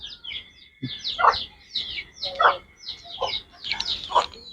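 Chickens cluck and chirp in short bursts, a few birds calling back and forth at close range with quiet gaps between.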